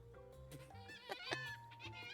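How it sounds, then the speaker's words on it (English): Seagulls squawk and laugh in the game Love and Deepspace, giving faint, harsh, wavering calls in quick succession over a couple of seconds. "The seagull's laughter becomes louder."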